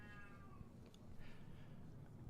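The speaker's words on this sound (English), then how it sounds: "I apologize for my noisy cat" A house cat lets out a short meow near the start over steady low room noise, followed by faint shuffling sounds.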